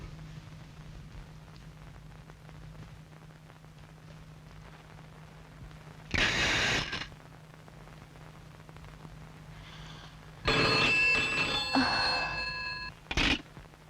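A telephone rings in a quiet room in two loud bell bursts, one short and one longer, followed by a brief final ring, with a low steady hum between them and no speech.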